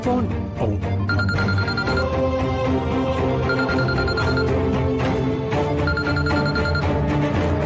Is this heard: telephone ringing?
yes